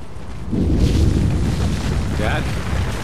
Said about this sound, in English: Wind's starting to pick up, too.